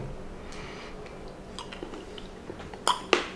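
Someone chewing dried ginger, with soft, faint crunching and mouth sounds over low room noise, ending in two sharper crisp bites close to the mic.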